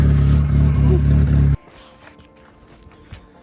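A cheap project car's engine idles with a bad exhaust leak, making a loud, steady low rumble with a rhythmic pulsing that cuts off abruptly halfway through, leaving faint handling noises and a quiet background.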